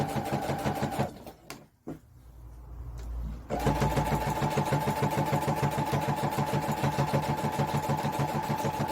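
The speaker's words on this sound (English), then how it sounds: "I'm going to tack all the way along the sewing line" A sewing machine runs fast, tacking a long line of stitches along a cushion seam, with a brief pause and fabric handling before the rapid, steady whirring resumes.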